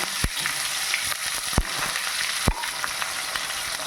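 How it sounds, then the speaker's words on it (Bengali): Chopped onion frying with dried red chilli and cumin seeds, a steady close sizzle with a few sharp utensil knocks against the pan. "কুচনো পেঁয়াজটা একটু লাল করে ভেজে নিতে হবে"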